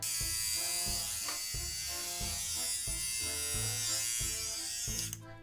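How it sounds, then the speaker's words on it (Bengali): A small battery-powered mini trimmer from a Daraz mystery box buzzes steadily close by with a constant motor hum, switched off abruptly near the end; no speech. "ও, এটা যে মিনি ট্রিমার"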